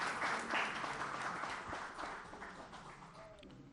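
Quiet applause from the audience at a pan-African excellence award ceremony as an honoree is called up, strongest at first and then tapering off.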